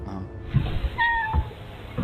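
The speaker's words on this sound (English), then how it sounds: "Aw, cute little cat." A small cat meows a few times in a drawn, high, wavering cry, close and clear, with some low background noise and brief human sounds around it.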